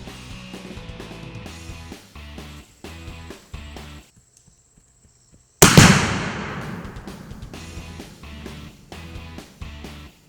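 A Binary X exploding target detonates when shot, a single sharp, loud blast with a rolling decay. Rhythmic background music plays before the explosion and continues after it.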